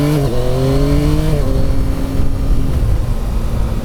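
Yamaha XSR900 GP motorcycle being ridden, its loud engine note rising and dropping through gear changes over a steady roar of wind and road noise.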